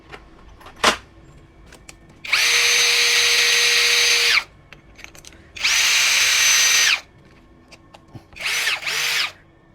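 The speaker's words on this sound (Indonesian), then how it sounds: "Oke, kita coba 10 mili mata bor beton." An APR AP34+ cordless impact drill fitted with a 10 mm concrete bit whines loudly in impact mode in three bursts: two long ones, then a shorter, uneven one. A sharp knock comes before them, with no talk.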